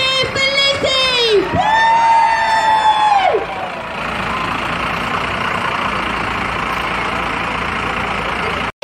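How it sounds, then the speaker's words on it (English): Fans at a celebration for an Olympic gold medallist send up a broad, sustained cheer. It starts after a few rising and falling whooping tones and holds at an even, fairly loud level. "let's have a big cheer for Lizzy!"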